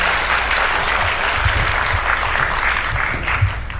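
An audience applauds to welcome actress Yoon Yeo-jeong, a loud, steady burst of clapping from a crowd that holds for several seconds.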